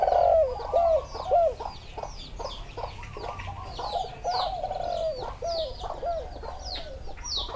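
Repeated spotted dove coos roll along in gentle phrases, moderately loud, while chickens cluck and small birds chirp around them.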